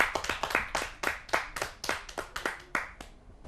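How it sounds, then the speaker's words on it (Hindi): A small audience claps to welcome a poet at a Hindi kavi sammelan on television: distinct, fairly loud individual hand claps in a loose, uneven rhythm. "आइए जोरदार तालियों से उनका स्वागत करते हैं।"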